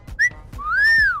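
In a comedy movie scene, a person who has swallowed a whistle gives off a short, sharp whistle followed by a longer tone that rises and falls, loud and alone.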